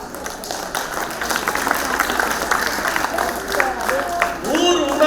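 Audience clapping at a Tamil Aathichudi recitation programme for Women's Day, steady dense applause through the whole stretch, with voices mixed in near the end.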